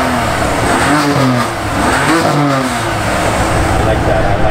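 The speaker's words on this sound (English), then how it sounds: "legends say that Remus is one of the best sounding exhausts on the S55 engine" A BMW S55 engine fitted with a Remus exhaust, valves closed, revs in loud repeated bursts at a car meet, its mid-pitched roar rising and falling close by, with people talking over it.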